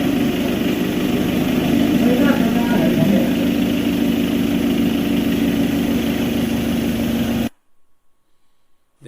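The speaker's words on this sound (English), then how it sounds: "Then start the engine and let it run for about 10 minutes" A steady 2.0 TDI diesel engine idles nearby with a low, constant rumble, then cuts off abruptly, leaving near silence.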